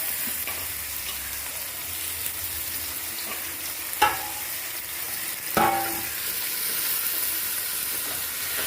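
Steady sizzling hiss of vegetables, including capsicum, stir-frying in a hot pan for veg noodles, with a couple of louder clattering stirs and bursts of crackle partway through.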